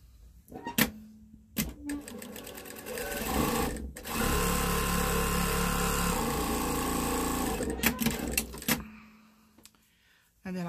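A home sewing machine runs a quarter-inch seam on a memory bear made from Simplicity pattern A2115, with a few short clicks and bursts before a loud, steady stretch of stitching lasting several seconds, then more brief stops and starts.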